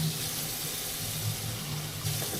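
Water runs steadily from a tap, a continuous close hiss and splash with no break and no voices.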